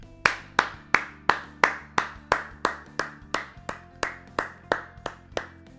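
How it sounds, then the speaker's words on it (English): A single person claps alone at a steady, deliberate pace, about fifteen sharp, close claps evenly spaced with no voices or other sound between them. "I'm going to take a second here and give this episode a round of applause"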